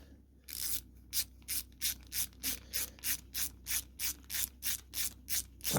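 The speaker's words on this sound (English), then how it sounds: "That's a handy wee ratchet there." A small hand ratchet clicking in rapid regular bursts while working on a Kawasaki ZZR 1200 engine, about a dozen evenly spaced strokes, close and crisp, with no speech.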